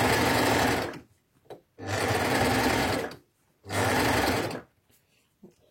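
A Baby Lock Ovation serger stitches a rolled hem on a sleeve in three loud, close bursts of fast whirring, each about a second long, separated by brief pauses with small handling noises.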